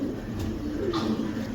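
Pigeons of a breeding pair at a breeder's loft coo in low, soft, throaty murmurs, a steady close rumble lasting the whole moment with no voices over it.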